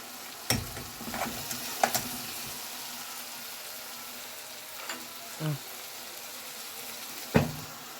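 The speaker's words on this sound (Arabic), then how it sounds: "كده الوقت بنقلب البسلة وبعدين نحط لها الملح" Peas frying in a pan while a spoon stirs them, a soft sizzle broken by several sharp scrapes and knocks of the utensil at irregular intervals, close and fairly quiet.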